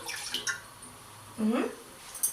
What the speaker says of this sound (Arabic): ونقوم مفضيين نص كوبايه الميه كده